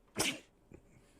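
One sharp, explosive human sneeze lands close and loud, followed a moment later by a softer short exhale or sniff.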